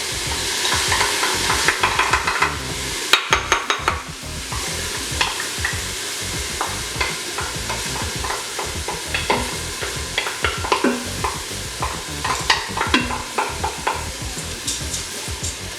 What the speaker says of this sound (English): So now I'm gonna add my soaked rice on top.